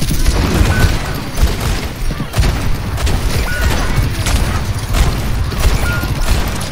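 Rapid gunfire from a shooter video game, dense overlapping shots and booms running steadily through the whole stretch at high, even loudness with no pauses.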